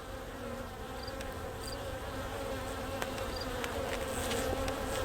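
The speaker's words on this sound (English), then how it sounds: "There's a lot of bees on the bottom, but they're alive. They're moving around" Dense, steady buzzing of many honeybees close by around a hive, a continuous insect drone with faint higher whines, no voices.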